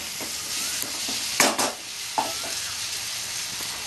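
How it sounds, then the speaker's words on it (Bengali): Potatoes fry in leftover oil for a prawn and drumstick curry, a close steady sizzle with a couple of brief spatula scrapes and clinks against the pan, with no voices. "এবার আমি আলুগুলো দিয়ে ভাজা করব। আমি আর তেল দিইনি, এই তেলেই আমি আলুটা"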